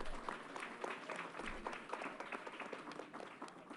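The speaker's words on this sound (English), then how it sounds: "Let's give her another round of applause." A crowd at an outdoor announcement event at Yankee Stadium claps in a steady, moderately loud round of applause that holds evenly throughout without any speech over it.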